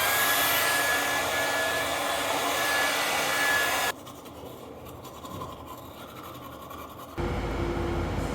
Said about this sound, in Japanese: ドライヤーもついている。